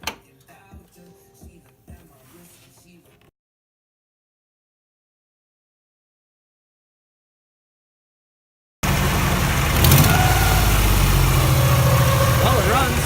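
A Nissan 300ZX Z31 engine that runs roughly, with a short, quieter mechanical clatter at the start, a long stretch of silence, and then a loud, steady, close-up engine roar for the last few seconds.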